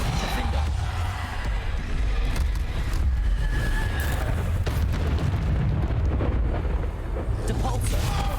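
Bombarda spell blasts in Hogwarts Legacy fire in quick succession: repeated booming explosions over dense, continuous combat rumble and crackle, loud and close throughout.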